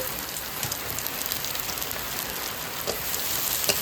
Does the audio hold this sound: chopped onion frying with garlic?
yes